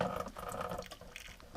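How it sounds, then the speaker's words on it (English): Water rushes and sputters out under pressure from a house water filter housing in a short, steady gush, close and fairly quiet. "See how it's purging the water out of there?"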